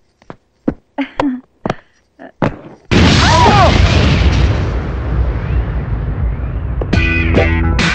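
A small bomb hidden in a suitcase explodes as a film sound effect: after several short voice bursts, a sudden loud blast erupts and roars on with a long rumbling tail, then a few sharp clattering hits near the end.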